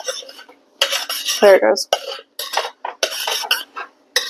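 Metal spoon clinking and scraping in a pan of melted caramel sauce as it is stirred off the spoon, sharp close knocks and rattles in bursts, with a brief spoken remark partway through.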